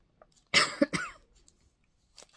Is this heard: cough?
yes